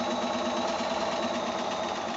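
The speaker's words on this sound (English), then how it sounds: "I'm going to go to the sewing machine, and I'm going to sew on my drawn line" Sewing machine running steadily while chain piecing quilt block pieces along a drawn line, a continuous even whir without pauses, close and fairly loud with no talking.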